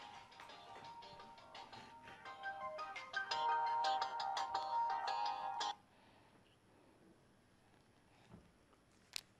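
A mobile phone ringtone plays loud and melodic for several seconds, then cuts off abruptly, leaving a quiet room with faint shuffling sounds afterward.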